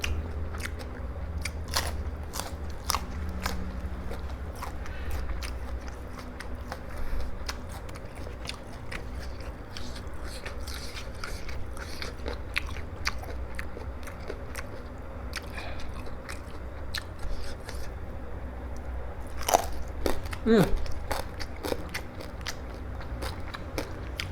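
Crispy fried pork cheek bitten and chewed up close, a steady run of sharp crunches and crackles for over twenty seconds, a louder burst near the end, with no talking.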